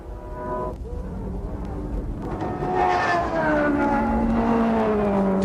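A Spice GTP prototype race car in the 1992 IMSA Camel GTP race at Road Atlanta pulls away under the green flag at full race speed, its loud engine note rising steadily and sweeping upward over several seconds amid other cars.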